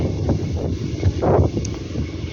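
Gusty outdoor wind buffets the microphone in a loud, continuous low rumble, swelling into stronger blasts partway through, with no voices present.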